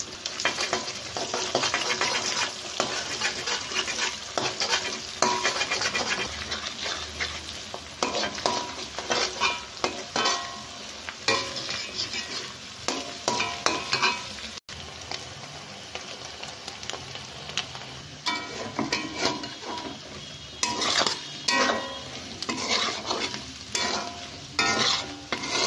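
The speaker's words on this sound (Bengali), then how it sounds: "আমি এবার একটু সাইড করে দিয়ে ডিমটা ভেজে নেব" Eggs sizzle in a hot pan pushed to one side of stir-fried vegetables for a chow mein, with steady frying crackle and frequent scraping stirs of a spatula against the pan, close and continuous.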